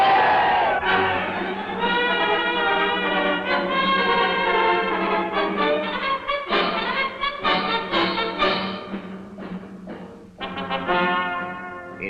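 A large crowd cheering and chanting for Indonesian independence, loud massed voices rising together in sustained shouts with rhythmic surges, heard close and filling the whole stretch.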